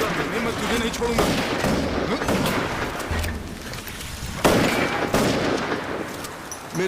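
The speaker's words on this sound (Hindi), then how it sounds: "चलाओ, गोली चलाओ।" Sustained bursts of gunfire crackle throughout, with sharp loud impacts and rumbling booms, under raised voices shouting.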